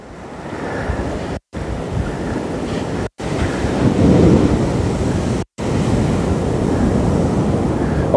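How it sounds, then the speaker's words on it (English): Heavy surf pounds a beach at Kalbarri, Western Australia, a loud continuous roar of crashing waves with wind buffeting the microphone, broken by brief cuts, with no talking. "just seeing the force of these waves crashing onto the shore"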